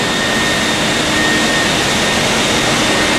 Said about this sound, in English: So vacuum cleaner